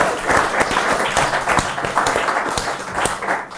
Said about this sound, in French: alors les applaudissements, c'est pour Laure.